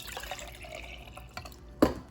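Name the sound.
filtered water being poured into a cup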